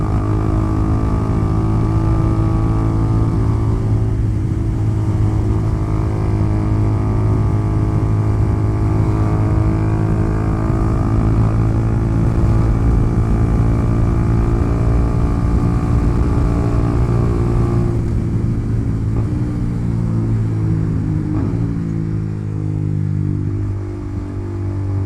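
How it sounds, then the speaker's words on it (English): A 300cc motorcycle rides at a steady high speed, its engine droning loud and close with a constant hum and wind rush that dips slightly near the end. "This is on a 300cc bike"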